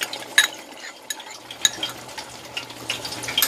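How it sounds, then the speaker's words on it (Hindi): Whole cumin, black pepper, black cardamom and cinnamon fry in ghee for a beef karahi, with a soft steady sizzle under scattered metal spoon scrapes and clinks against the pan, close by. "घी डाल के इसको 5 मिनट, मैं 10 मिनट इसको भूनती हूँ"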